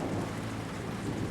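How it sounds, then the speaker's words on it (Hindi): Steady rain pours down outdoors at night around a broken-down car, a dense, even hiss with a low rumble that runs on without a break and no voices. "बारिश हो रही है।"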